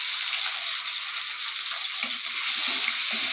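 Spice paste with water and turmeric sizzling in a pan for rohu fish curry, a steady hiss joined by a few stirring scrapes toward the end, with no speech.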